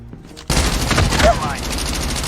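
Rapid automatic gunfire from a Type 25 rifle in Call of Duty opens suddenly and keeps going as a dense, loud rattle after a brief quieter lead-in, while a game voice speaks over the shooting.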